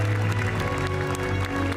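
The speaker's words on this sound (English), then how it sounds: "Turismo series producer Kazunori Yamauchi, to a rapturous applause here in Amsterdam." A crowd applauds at a Gran Turismo World Series trophy ceremony in Amsterdam. The clapping is steady and fairly faint beneath a droning hum of the venue's sound system.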